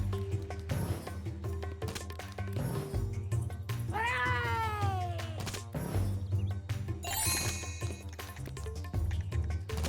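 A female character in Skylanders: Spyro's Adventure lets out a loud, wavering cat-like wail of distress, with rising and falling pitch sweeps over ongoing game music and effects.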